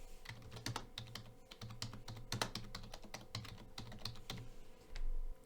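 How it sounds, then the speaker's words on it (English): Steady typing on a computer keyboard while text is entered into a GitHub repository description field, with a continuous run of close, crisp keystrokes and a low hum beneath. "let's type something in it"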